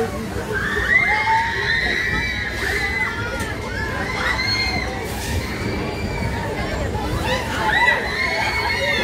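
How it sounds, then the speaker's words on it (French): Girls and children screaming on rides at an outdoor autumn funfair in Lyon's Croix-Rousse, repeated shrill cries rising over a constant loud crowd din and rumbling machinery. "Et allez, les donzelles qui hurlent. Une gamine qui hurle."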